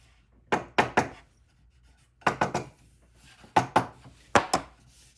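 A hammer taps plywood side pieces flush on a micro-camper build, with pieces held by a C-clamp: short bursts of two or three sharp woody knocks separated by quiet gaps, close and moderately loud.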